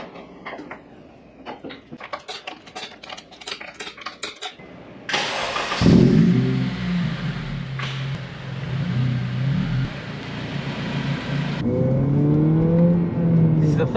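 Honda Civic Type R after a brake upgrade, with brakes and clutch freshly bled: clicks and door noises, then the engine cranks and fires, idles with a steady rumble and revs up and down near the microphone as the car sets off.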